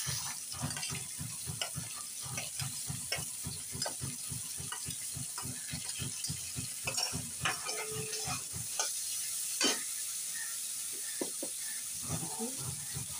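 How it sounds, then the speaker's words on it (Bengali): Potatoes with egg and carrot fry in a pan, with a quick, steady run of spoon strokes over a constant close sizzle that slows and becomes irregular toward the end. "আলু ভাজছি, এর সঙ্গে দিচ্ছি ডিম আর গাজর।"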